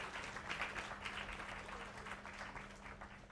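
Applause rises from an audience at an education society event, a dense steady wash of clapping that holds at even strength throughout.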